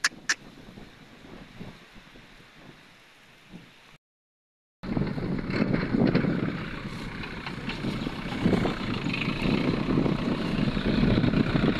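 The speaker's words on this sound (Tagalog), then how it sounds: "Malakas ang hangin, gumagalaw yung cellphone natin." Strong wind buffets the microphone in heavy low rumbling gusts, briefly cutting out before returning louder and continuous.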